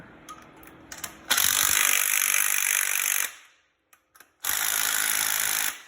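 Motorcycle bolts being run down with a ratchet or power tool, a short burst followed by two long loud buzzing runs separated by a brief pause, close and alone.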